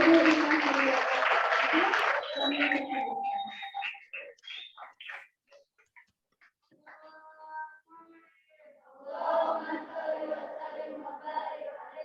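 Dense applause from an audience at a madrasah school literacy event fills the first couple of seconds, then fades into scattered sounds before someone begins speaking.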